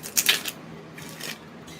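Tarot cards being shuffled by hand during a reading: a few quick crisp riffling bursts up front, then softer papery slides, close and fairly quiet with no talk.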